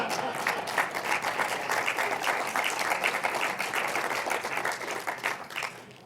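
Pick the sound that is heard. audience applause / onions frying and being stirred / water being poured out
audience applause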